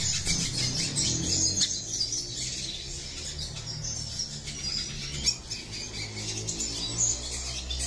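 Mother bird feeding newly hatched chicks in a breeding aviary, with steady high chirps and squawks over a busy, continuous background of other birds, and no talk.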